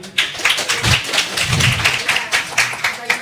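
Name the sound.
audience clapping hands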